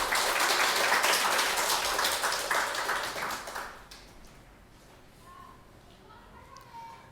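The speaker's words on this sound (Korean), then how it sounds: "우리 하나님께 감사와 영광의 박수 올려드리겠습니다." A church congregation applauds during a Sunday worship service, a dense crowd clapping for about three and a half seconds before fading to a quiet room with faint sounds.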